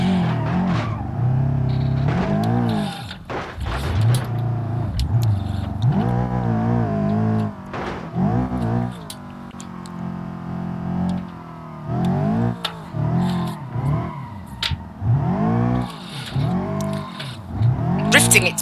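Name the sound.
car drifting with tire squeal in BeamNG Drive video game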